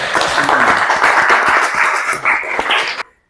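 Students in an Islamic religious education class clap together, a dense burst of hand claps with children's voices mixed in, lasting about three seconds before stopping abruptly.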